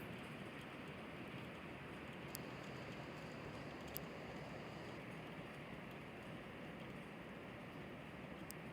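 A sharp summer rain shower falls steadily during a convective downpour, a faint, even hiss of rain with a few brief clicks, no voices.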